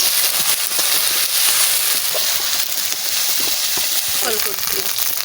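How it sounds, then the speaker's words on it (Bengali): A raw spice paste (masala) with garlic fries in a pan for a spicy native catfish (magur) curry, making a loud, continuous close sizzle and hiss with occasional faint scraping. "মশলাটা একটু ভাজা করে নিচ্ছি তাহলে মানে কাঁচা রসুনের আর ঘ্রাণ হবে না"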